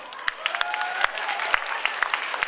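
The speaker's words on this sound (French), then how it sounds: "j'aimerais quand même qu'on applaudisse tous les autres cosplayers" Crowd applause for cosplayers at the Paris Manga convention, a busy wash of many hands clapping with sharper individual claps popping out, and voices mixed in underneath.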